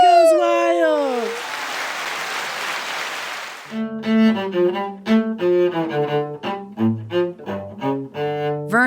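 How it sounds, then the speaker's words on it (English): A crowd cheering and applause sound effect, a loud burst of roaring cheers and clapping that fades after a couple of seconds, following a whooping voice and leading into music. "Crowd goes wild."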